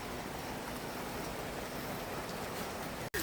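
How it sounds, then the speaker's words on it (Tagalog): Heavy, fast rain pours down in a steady, dense hiss that stays loud throughout, broken by one sharp click near the end. "Sobrang lakas, bilis ng ulan."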